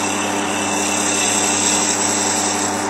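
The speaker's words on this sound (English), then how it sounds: "I'll just use the gouge to skim over the blank peg to make sure it's properly" Gouge skimming a spinning boxwood blank peg on a wood lathe, a steady continuous whirring hiss with even loudness and no talk, truing the wood for a miniature goblet.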